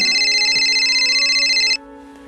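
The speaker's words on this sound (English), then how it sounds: "when the phone rang" Telephone ringing with a bright electronic tone, one sustained ring of under two seconds that cuts off sharply, close and clear with no talk.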